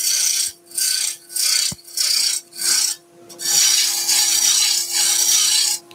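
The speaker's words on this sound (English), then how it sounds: "I'm taking the worst out with the roughing gouge, or the bulk of the material out first" A roughing gouge cuts spinning wood on a lathe, shaping a salt and pepper grinder: loud, close, rasping bursts in a steady on-off rhythm, then one long continuous cut, under a constant motor hum.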